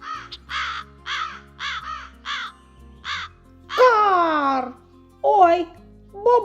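In a children's stage play based on a fairy tale, a performer's voice imitates a crow with about seven short rhythmic caws, then longer drawn-out cries, loud and close, with speech in between.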